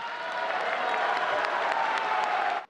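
Steady clapping from a devotional gathering at an ISKCON event honoring Srila Prabhupada and Chaitanya Mahaprabhu, dense and continuous like a crowd applauding, holding even throughout before stopping abruptly.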